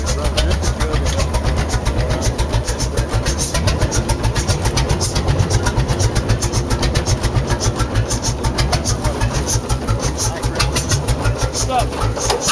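An old restored antique engine runs steadily, a loud continuous rhythmic chugging with a fast even pulse that holds throughout, with no talk over it.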